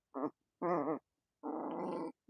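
A labradoodle growls in three close, rising bursts while tugging a rope toy, each rumble louder and longer than the last, with brief silent gaps between them.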